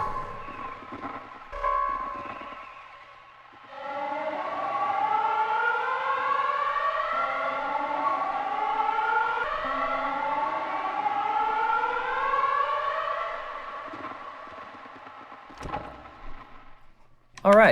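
Intense red storm siren from the Pacific Drive video game, a loud wailing tone with rising and falling sweeps that swells in, holds steady for about ten seconds, then fades, framed by brief clicks and rustles.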